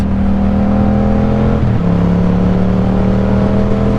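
Yamaha MT-07 motorcycle engine revving on a country road, a loud steady drone that dips briefly and settles into a slightly higher tone, with constant wind rumble throughout.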